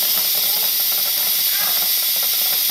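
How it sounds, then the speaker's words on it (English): Loud, continuous steam hiss pouring from a pressure cooker during tuna canning, a constant broad rushing sound throughout with no pauses. "we got a good amount of steam coming out of the pressure cooker"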